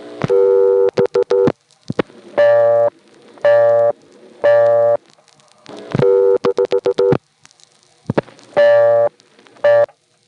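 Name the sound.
busy signal on an NX1 crossbar payphone line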